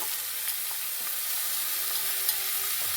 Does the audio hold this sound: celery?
yes